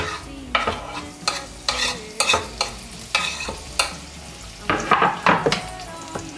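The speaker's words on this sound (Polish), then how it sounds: "Jak tylko się zacznie podsmażać, to od razu wrzucamy" Potatoes frying in a pan and being stirred with a utensil, giving repeated scraping strokes over a steady sizzle, close and fairly loud with no talking.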